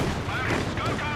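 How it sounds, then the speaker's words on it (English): Rapid machine gun fire in the World War II strategy game Company of Heroes 2 rattles continuously through a short, dense stretch of battle noise, with a voice talking over it. "Look at all these machine guns."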